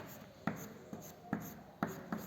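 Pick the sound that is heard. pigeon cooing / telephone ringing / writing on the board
writing on the board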